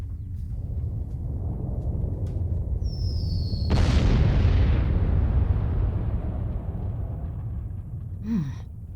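Bomb explosion in the video game Return to Mysterious Island 2: a sudden heavy boom erupts over a low rumbling backdrop, then decays into a long roaring wash, followed by a faint squeak.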